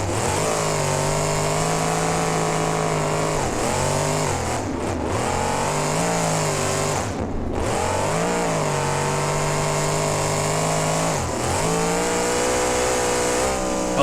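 A Hellcat monster truck in the BeamNG video game revs hard while spinning donuts, its loud engine droning continuously and dipping and climbing in pitch several times over roughly fourteen seconds, with no talking.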